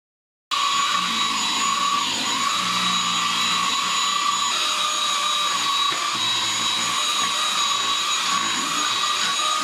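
A JASHEN V16 cordless stick vacuum cleaner (25.2V, 350W) runs on low power over a low-pile rug with a steady, loud motor whine and airflow hiss, starting abruptly and holding constant throughout.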